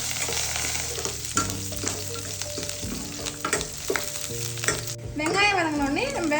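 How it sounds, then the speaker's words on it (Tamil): Garlic, onion and curry leaves frying in hot oil, a dense crackling sizzle with repeated stirring clatters, close and steady, and a higher spitting burst near the end. "பூண்டு பொன்னிறமாக வதங்கினோடனே வெங்காயமும் கருவேப்பிலையும் சேர்த்துக்கலாம்."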